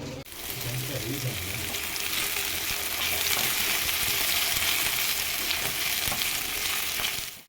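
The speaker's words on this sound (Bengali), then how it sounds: "ওই যে ওইদিকে কড়াইটা বসিয়ে দিয়েছি, এখন আলুটা ভেজে নেবো" Potatoes frying in a wok (kadai) make a loud, continuous close sizzle with bubbling and occasional stirring, steady throughout after a short quieter start with a voice.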